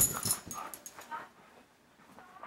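Three dogs indoors in a cluttered house give soft whimpers, yips and breathy panting, close by and fairly quiet, in short uneven bursts that fade toward near silence.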